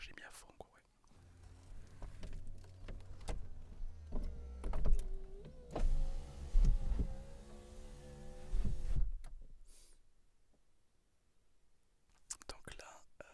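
An electric convertible roof motor whirs and hums for several seconds as the top closes on a car, with soft whispered talk nearby and faint clicks and thumps as it latches shut.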